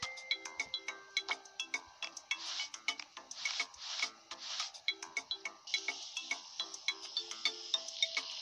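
A phone rings in the Papa's Mocharia To Go cooking game, a rapid run of bright electronic chirps repeating steadily over light game tones, with no talking.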